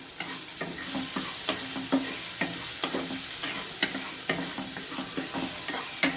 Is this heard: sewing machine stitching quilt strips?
no